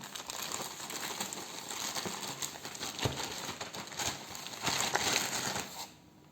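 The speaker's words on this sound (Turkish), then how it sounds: "E, kargoyu bir açalım hep beraber." Plastic shipping packaging holding a leather wallet crinkles and rustles steadily as it is torn open by hand, close up and fairly quiet, with no talk.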